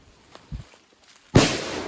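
A single sharp gunshot cracks out loudly after a couple of faint thuds, leaving a brief noisy tail.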